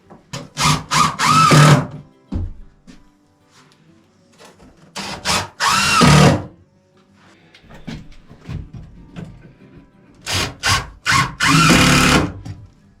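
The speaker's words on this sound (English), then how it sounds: "So now Derek's just screwing in those knee walls" A power drill drives screws into wooden knee walls of a pump enclosure, giving several loud bursts of whirring, with short pauses between screws and a longer quiet gap midway.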